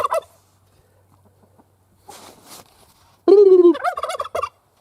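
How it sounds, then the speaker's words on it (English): A turkey gobbles loudly and close by outdoors after some faint rustling, with a brief quieter noise before the rapid, warbling gobble bursts at the end. "Well, good morning to you too, turkey."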